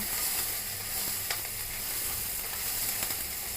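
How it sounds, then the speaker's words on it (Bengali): Nigella seeds, whole cumin, chopped ginger and green chili sizzling in hot oil while being stirred, a steady close hiss broken by a few sharp spoon clicks against the pan. "কালো জিরা গোটা জিরা কাঁচা লঙ্কা কুচি এবার ভালো করে নেড়ে দেব"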